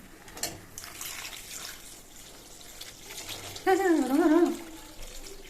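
Water pours in a short burst near the middle, a loud splashing stream over faint background noise, while cooking a fish curry.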